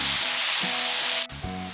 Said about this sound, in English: Add beef slice in a single layer. Cook around 1 to 2 minutes until meat changes color.